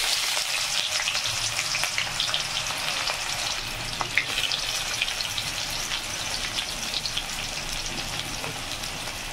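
Onions frying in hot oil with whole cardamom, cinnamon and cloves for chana masala, a loud steady crackling sizzle throughout with scattered sharper pops and no talking.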